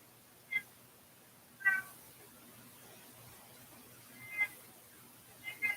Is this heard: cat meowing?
yes